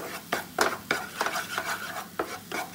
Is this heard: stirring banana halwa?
yes